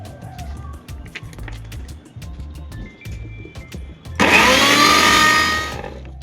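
A mixer grinder whirs loudly through a thick paste of poppy seeds, green chilies and water, starting abruptly partway in after quieter kitchen clatter and running steadily to the end.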